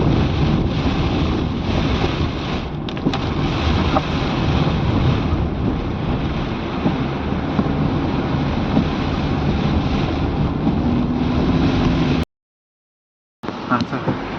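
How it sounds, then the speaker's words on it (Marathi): Heavy rain falls on a mountain forest along the Raghuveer Ghat road, a loud, unbroken roar with gusty wind-like rumble throughout, briefly cut near the end. "आपण पाहू शकता पाऊस चालला जोरात"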